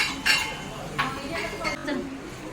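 Dishes, pots and utensils clinking as they are scrubbed in a home kitchen, with several sharp metallic knocks and clatters spaced irregularly under nearby conversation.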